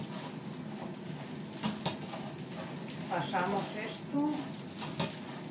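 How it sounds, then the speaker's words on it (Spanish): Food browning in a frying pan is stirred, giving a soft steady sizzle with scraping stir sounds and a few clinks, while a person speaks briefly over it. "Voy a remover como tienen que dorar."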